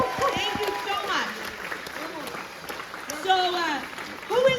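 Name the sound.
rally crowd applause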